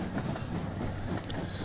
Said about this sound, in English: We've got our train rolling along here.